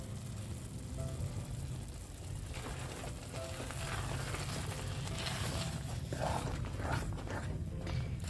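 Spinach palak sizzling and frying gently on a low flame, a soft, steady crackle close by with a few light stirring sounds and no talking.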